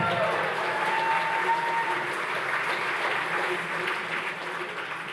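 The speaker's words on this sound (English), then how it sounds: "maybe a round of applause for that fabulous jacket" Audience at an awards ceremony clapping in sustained, dense applause that slowly fades toward the end, with faint talk mixed in.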